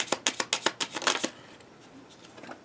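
A deck of tarot cards is shuffled up close, a rapid run of about eight crisp riffling slaps lasting just over a second, then quiet room tone.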